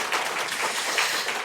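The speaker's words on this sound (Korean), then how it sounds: "우리 박수로 환영할까요?" A church congregation at a Sunday service applauds to welcome newcomers, a dense, steady patter of many hands clapping at moderate volume that fills the whole brief moment.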